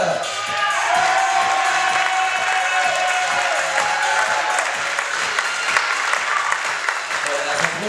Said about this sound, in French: Un tonnerre d'applaudissements, pardon, pour Charlotte.